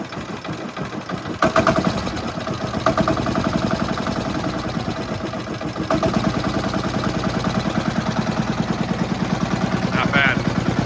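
A turbo diesel snow blower engine idles in a steady, close mechanical chug with a fast rhythmic pulse, running evenly with slight shifts in pitch throughout.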